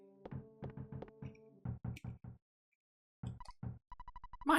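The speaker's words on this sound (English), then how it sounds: "Someone's knocking at the door. What an annoying knock." A door knock from the Earthbound video game: clusters of crisp, close knocks in uneven bursts separated by a brief silence, with a small synthetic chime near the end and no voices.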